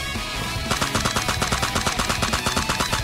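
Gunfire in the mobile battle royale game Sausage Man: after a brief lead-in, a sustained string of rapid automatic shots rattles off loud and close in a steady rhythm, with no talking.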